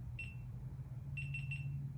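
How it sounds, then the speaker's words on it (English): A GoPro camera at a photo booth event beeps as it takes a picture: one short, high beep, then a quick run of three more. The beeps are faint and sit over a steady low hum. "you could hear my GoPro actually going off right now"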